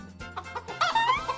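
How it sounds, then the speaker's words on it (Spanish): A hen clucks close by in a few short, throaty bursts, ending in a longer rising cluck, with no talk over it. "es una gallina"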